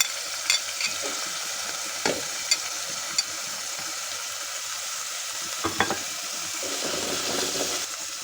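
Spoon stirring through a pot of homemade spinach soup on the stove, a soft steady sizzle and hiss underneath with a few light scraping knocks scattered throughout, close and fairly quiet, no voices.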